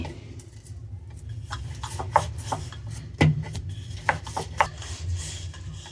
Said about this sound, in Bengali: আমি এখানে একটু তেল ব্রাশ করে তেল দিয়ে এটাকে বেলছি